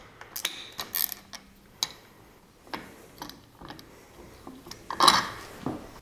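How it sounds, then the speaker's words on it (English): A ratchet with a 1/2 inch socket breaks loose a mirror on a 2006 Harley-Davidson Sportster, producing scattered short clicks and a few sharper ticks, close and fairly quiet with no talking. "1/2 inch socket on this side. Break the mirror loose."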